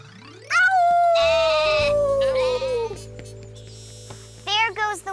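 A drawn-out, wavering sheep bleat rings out loudly in a children's TV fairy tale, followed by shorter bleats near the end.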